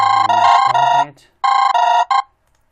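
An Android phone ringtone plays two bright melodic phrases with a short gap between them. The tone is loud and close and carries no other sound.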